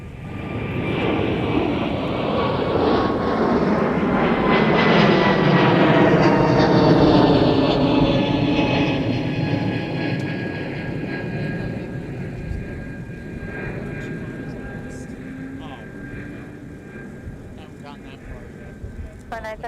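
An airliner takes off from runway 30 left at MSP airport, its engine roar swelling to a loud, close peak and then fading into the distance as it climbs, with a few faint voices in the background.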